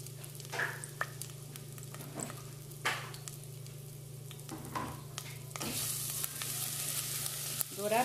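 Garlic sizzles and fries in a pan before rice goes in, a steady close frying hiss with occasional stirring scrapes and clinks of a utensil against the pan.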